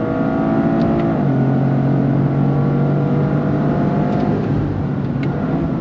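A 2025 Toyota GR Corolla with an eight-speed automatic accelerating hard, engine revs climbing then dropping at quick upshifts toward a 7,000 RPM redline, loud and continuous from inside the car.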